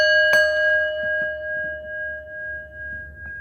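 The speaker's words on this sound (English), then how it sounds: "Let's ring the bell, okay?" A single bell is struck once, ringing out clearly with a sustained tonal hum that slowly decays over a few seconds.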